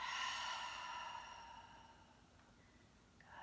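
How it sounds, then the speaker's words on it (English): During yoga breathing, a single long, breathy exhale is released through the mouth. It is soft and airy, close to the microphone, and it fades gradually over about two seconds into quiet. "Long exhale out of the mouth."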